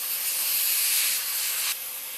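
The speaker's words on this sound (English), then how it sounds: "I just spray into a paper towel." An airbrush sprays paint into a paper towel during budget lure painting, giving a loud continuous hiss for nearly two seconds before it drops to a softer hiss.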